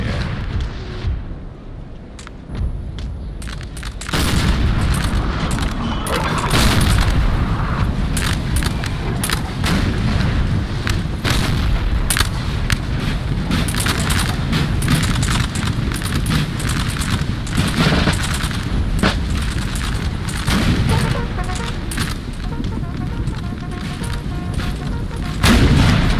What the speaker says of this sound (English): I'm going to actually set up my cannons back here, because I have an angle